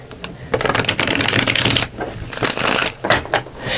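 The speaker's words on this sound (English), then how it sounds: "Let's get one more shuffle here." Tarot cards are shuffled close up in quick riffling bursts, a dense papery flutter with short pauses between rapid runs, heard alone without talk.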